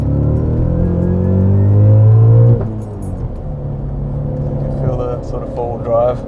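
A boosted Audi RS4 B7 quattro V8 pulls hard, heard from inside the car: engine drone climbs steadily, drops as the revs fall, then rumbles on more evenly. Occupants talk throughout.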